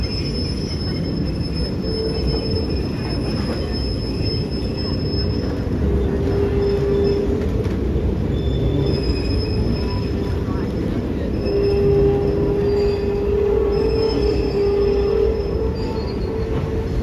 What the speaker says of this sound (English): The engineer will push our train all the way into the switchback before pushing us forward down to the next switchback